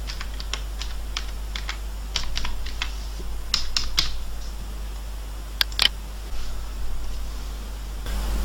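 Fingers tap out a password on a computer keyboard, a quick, uneven run of close, crisp key clicks in small bursts with short pauses between, over a faint low hum, no speech.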